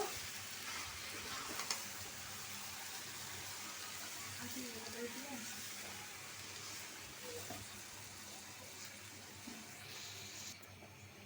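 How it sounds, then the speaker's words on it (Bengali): Water poured into a chicken and potato curry cooking in a pan, giving a faint, soft pour and gentle sizzle that runs quietly and steadily, with some low background noise. "তরকারি জল দিয়ে দিলাম"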